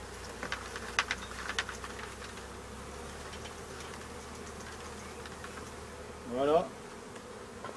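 A honeybee swarm cluster shaken from a branch into a bucket outdoors, giving a steady close buzz of many bees throughout, with a brief louder swell near the end and a single word spoken.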